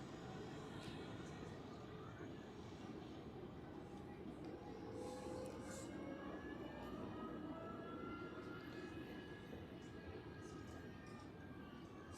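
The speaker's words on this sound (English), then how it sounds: "So, takeoff for KLM flight 1922 to Amsterdam." A KLM airliner taking off for Amsterdam at Zurich airport on a freezing day: a steady, distant jet roar that swells slightly and sustains throughout, with faint tonal whines drifting above the broadband rumble.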